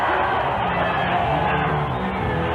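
Crowd at the 1986 Los Angeles Off Road Grand National cheering for Chevrolet Grand National truck driver Danny Thompson, a steady, dense roar of voices filling the stands.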